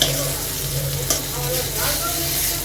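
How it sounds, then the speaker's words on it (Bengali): Okra (bhindi) sizzles in hot oil in a home kitchen pan, a steady crackling fry with occasional stirring scrapes and faint voices in the background. "এদিকে ভেন্ডিটা ভাজবো"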